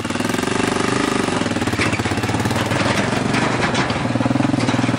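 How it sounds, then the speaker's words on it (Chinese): A motorcycle engine running nearby, a loud steady rapid throbbing putter with even pulsing throughout and no voices. "我骑摩托车回去"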